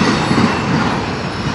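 A Norfolk Southern or CSX freight train rolls past near a rail diamond in Fostoria, Ohio, its loud rumble carrying the high squeal of wheels throughout the short stretch, with no talking.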